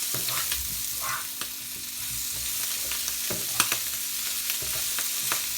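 King prawns frying with garlic in a hot pan, a steady close sizzle with occasional sharp crackles and pops from the shellfish, no voices.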